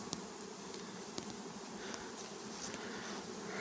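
A steady, even hum of many honeybees foraging on sunflowers fills the air, soft and continuous with no voices.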